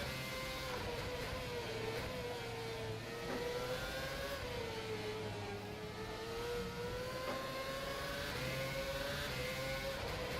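Race car engine in the rFactor 2 sim, pushed hard through corners at the Singapore circuit, a fairly quiet mid-pitched drone whose tone rises and falls smoothly as revs change, steady and without talk.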